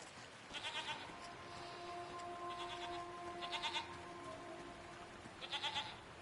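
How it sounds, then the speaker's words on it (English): Goat-like creatures bleat in a video game, several wavering nasal calls in short repeated bursts over a quiet ambient bed, moderately close and heard without talk. "What are these strange goat-like creatures? Are they simply goats?"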